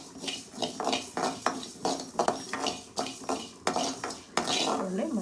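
Cumin and mustard seeds dry-roast in a pan while a spoon stirs and scrapes them in a quick, uneven rhythm of clinks and scratches, close and clear without speech.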